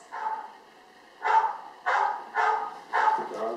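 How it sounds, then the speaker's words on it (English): A dog barks close by, one bark and then four evenly spaced loud barks, with a faint whimper at the very end, over quiet background. "Even the dogs want to support you"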